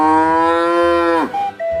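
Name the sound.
cow mooing sound effect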